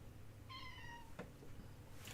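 A cat meows once, a clear, fairly close call with a faint click afterward over a low steady room hum.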